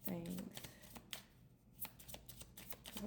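Tarot cards shuffled by hand in repeated riffling, flicking bursts at close range, with a voice talking intermittently alongside.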